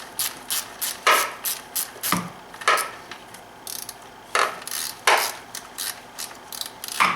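A ratchet tightens valve cover bolts on a BMW N51/N52 inline-six engine, giving short bursts of rapid clicking with pauses between strokes, close by and moderately loud, with no talking.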